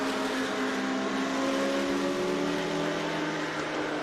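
A Renault Indy Lights race car at Watkins Glen, heard as a steady high engine whine with a faint rising pitch over a wash of track noise, fairly distant and with no talk.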